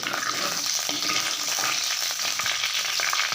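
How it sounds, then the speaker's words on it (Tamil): Karuvadagam spluttering in hot sesame oil for kara kuzhambu: a loud, dense, continuous crackling sizzle close up, with no talking. "வடகம் நல்லா பொரியுது"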